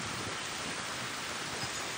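Heavy rain from Hurricane Helene pours down on a hillside, a dense, loud, unbroken hiss of downpour close around the listener with no voices.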